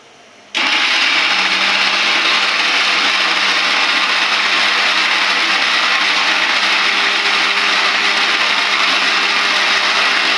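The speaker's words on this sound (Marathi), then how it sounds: "हे आता उकडलेले पीठ आहे हे जरा मिक्सरला आपण बारीक करून घेऊया." A mixer grinder starts abruptly and runs at a loud, steady whir with a constant gritty hum, close and continuous, grinding boiled flour dough.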